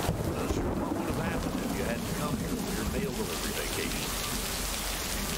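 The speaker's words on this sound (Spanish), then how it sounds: "Que con esta lluvia no te oigo." Heavy rain pours steadily as a dense, constant hiss, mixed with gusty wind buffeting the microphone.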